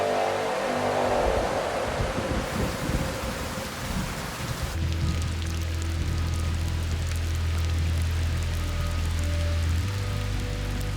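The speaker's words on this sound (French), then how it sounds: "C'est vrai que sur le camp, la pluie est moins facile à supporter." Heavy rain pouring steadily at a camp, a dense loud hiss throughout with a deep low rumble joining partway through.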